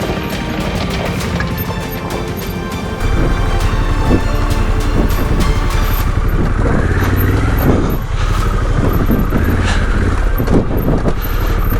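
A Harley Davidson Pan America motorcycle rides off-road in an OHV/ATV park, its engine loud and close, rising and falling through gear changes with heavy wind buffeting and bumps from rough terrain.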